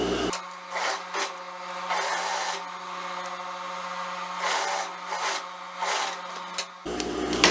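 Sewing machine stitching the crotch seam of a pantacourt jumpsuit, a close, rapid mechanical whirring that runs in bursts of varying speed, stopping briefly between runs before halting near the end.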